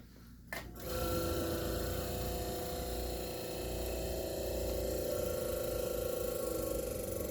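A Fedders Weather Bureau window air conditioner starts up with a click, and its compressor settles into a steady, close mechanical hum and buzz that keeps going without change.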